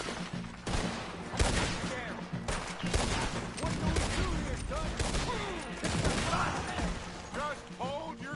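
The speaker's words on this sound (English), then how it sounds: "Hang on, I'm getting shot up here." Heavy gunfire crackles in a Red Dead Redemption 2 shootout, with dense overlapping volleys that barely pause. Voices talk over the constant shooting.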